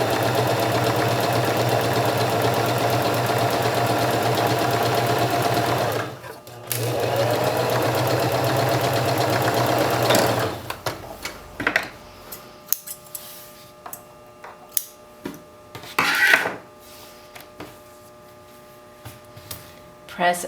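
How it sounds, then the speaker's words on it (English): A serger sews a seam, its motor running in a steady, fast whir for about ten seconds with a brief pause, then stopping and giving way to scattered clicks and handling sounds of fabric and the machine. "so we don't cut off any of the edge when we're serging"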